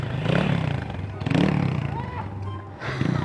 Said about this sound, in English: So she's about to go up doing a wheelie